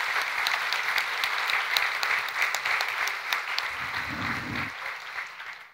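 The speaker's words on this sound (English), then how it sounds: "let's have a round of applause for them" An audience applauds at a county Hall of Fame gala evening, a dense, steady clapping that fills the room for several seconds, with a few sharp individual claps standing out before it tapers off.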